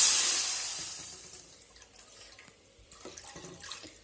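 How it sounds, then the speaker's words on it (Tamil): Water poured into a cooking pan while making okra kuzhambu, a brief splashing pour that starts strong and tapers off, followed by a few faint drips and small clinks close by. "இப்போ இதில் கொஞ்சமாக தண்ணி ஊற்றிக்குங்க."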